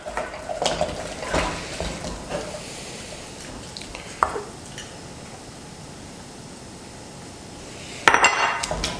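Churro dough being mixed with eggs in a bowl, giving a run of soft stirring and scraping strokes with occasional clinks of a utensil against the bowl, fairly quiet and steady, with a sharper clatter near the end.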